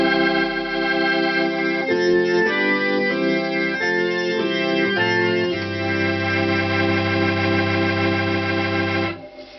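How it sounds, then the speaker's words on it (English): Sustained Crumar organ chords with a gentle, slowly swirling slow-Leslie rotary-speaker shimmer, changing harmony a few times before fading out. "And the slow Leslie, they sound like this."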